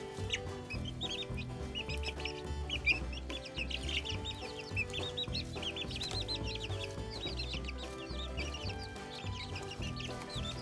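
Several chickens cluck and chatter near a backyard chicken coop, repeated busy clucks over a soft, low musical background throughout.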